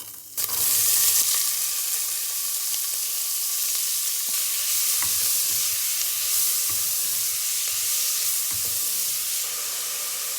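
Onions dropped into a pot of hot rendered pancetta fat, a loud sudden hiss that settles into a steady, dense sizzle with occasional faint stirring taps.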